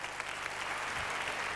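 A brief burst of dense audience applause from a TV talk show studio crowd, steady clapping throughout.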